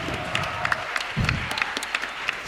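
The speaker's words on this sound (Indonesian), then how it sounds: "Beri tepuk tangan sekali lagi untuk Teater Cakar Bumi" A theatre festival audience applauds the group Teater Cakar Bumi after a performance, a dense, fairly loud burst of clapping with a low thump near the middle.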